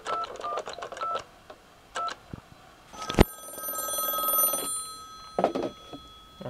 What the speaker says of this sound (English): I'm just going to go ahead and I'll call that phone there.